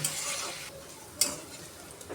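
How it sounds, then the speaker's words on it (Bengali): Boiled pointed gourd sizzles and crackles as it fries in hot oil while a spatula scrapes and stirs against the pan. "এখন আমি তেল দিয়ে দিব এখন সুন্দর করে বাজা ভাজা করে নিব"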